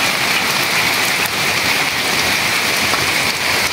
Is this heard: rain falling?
yes